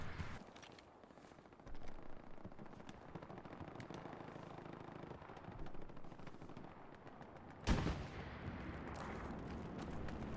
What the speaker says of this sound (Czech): Jsem slyšel, výstřel.